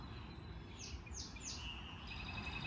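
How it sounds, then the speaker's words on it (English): Three quick, high bird chirps in a row over a steady outdoor hiss, fairly faint and distant. "Y'all hear them birds?"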